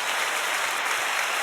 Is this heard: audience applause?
yes